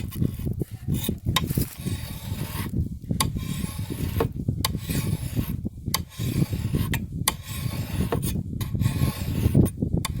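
Steel file rasping along the beveled edge of a pruning tool blade, close and continuous, in steady back-and-forth strokes with brief pauses between passes.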